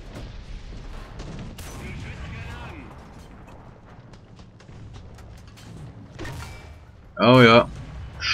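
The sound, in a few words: tank gunfire in video game War Thunder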